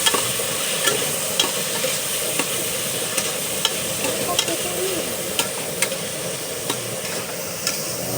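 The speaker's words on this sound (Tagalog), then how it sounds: "Basta ito na, chicken. Halo-haluin natin para hanggang magpula" Chicken fries in a pot for arroz caldo, a steady close sizzle under faint regular taps and scrapes of a spoon stirring, no talk.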